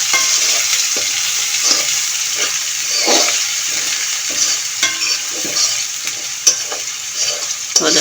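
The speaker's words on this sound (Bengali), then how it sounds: "এখন আমি পেঁয়াজটা ঢেলে দিচ্ছি। ঢেলে দিয়ে পেঁয়াজটা আমি নেড়ে ছেড়ে দেবো।" Onions frying in oil with browned garlic in a pan, stirred steadily, for a vegetarian papaya dish; a loud, continuous close sizzle with repeated scraping stir strokes and no talk.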